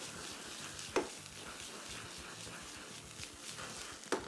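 Mushrooms frying in about a tablespoon of oil give off a faint, steady sizzle, broken by two sharp scrapes of stirring about three seconds apart.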